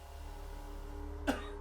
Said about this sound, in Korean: 기침을 하며 눈을 뜹니다